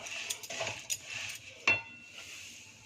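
Puffed amaranth and peanuts being stirred in a metal pan, with scattered scraping and light clinking of a spoon against the pan, one sharper knock near the middle, close and fairly quiet.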